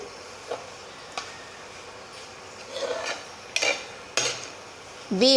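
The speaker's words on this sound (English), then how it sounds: "Now we have added oats to this. Mix it up well." Oats are stirred into dahi and coconut paste in a pot, with scattered spoon clinks and scraping against the vessel, a few louder knocks near the end, close and unhurried, without talk.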